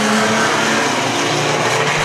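Banger race cars roaring around the Arena Essex oval during a race, a loud continuous wall of engine noise with revving and tyre sounds, close and unbroken.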